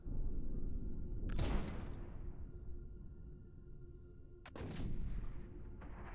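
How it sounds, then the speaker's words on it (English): Bombs explode in the trench warfare survival horror game Conscript: two heavy blasts a few seconds apart, each a sharp crack followed by a long rumbling decay over a low background drone. "Bombs are going off."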